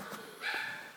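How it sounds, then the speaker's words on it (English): A dog indoors gives one short, fairly quiet bark that fades quickly, with no talk over it. "my dog has been really acting weird today, as you can hear her. She's barking at the corner."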